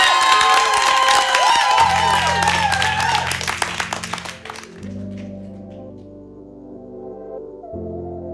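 A live crowd at a televised music show applauds and cheers loudly for the band, with whoops over the clapping for a few seconds. The applause then fades as the band starts playing.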